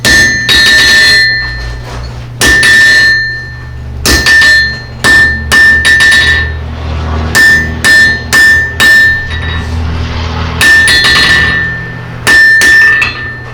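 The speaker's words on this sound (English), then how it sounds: "Science happens under the hammer." Heavy metallic blacksmith hammer blows on hot metal ring out in irregular bursts, some rapid runs of strikes and some single hits, over a steady low hum, loud and close.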